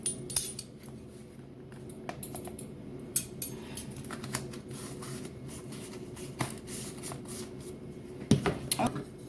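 Spices such as ground clove and ginger being stirred into seitan dough in a bowl, giving faint scraping and irregular utensil clicks and taps against the bowl throughout, with no talking.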